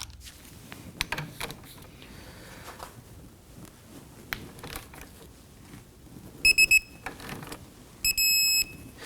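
Torque wrench tightening the lower rear shock absorber bolt to 81 foot-pounds on a 2015-2024 Nissan Murano in a quiet workshop, with faint scattered mechanical clicks followed by two short bursts of sharp electronic beeping near the end.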